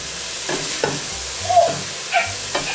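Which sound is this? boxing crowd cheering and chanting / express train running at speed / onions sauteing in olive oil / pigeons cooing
onions sauteing in olive oil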